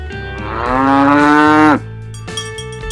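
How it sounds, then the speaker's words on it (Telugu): A cow gives one long, loud moo that swells and then breaks off sharply, followed by a few faint rustles and knocks in the quiet after it. "ఆవు."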